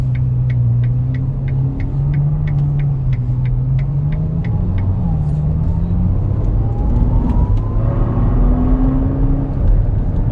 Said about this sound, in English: that V12 thrumming in front of us is making its presence known